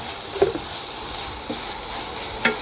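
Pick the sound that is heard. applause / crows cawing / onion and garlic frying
onion and garlic frying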